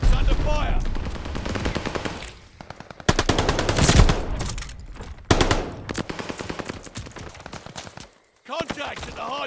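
Rapid automatic gunfire at a hardpoint in Call of Duty: Vanguard, loud close bursts separated by brief pauses, with game voice callouts in between.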